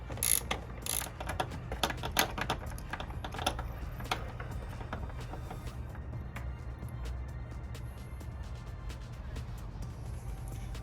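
A ratchet loosens a spark plug deep in its well on a Jaguar F-Type engine, giving rapid, light clicking bursts close by that are busiest early and then thin out into quieter, scattered ticks.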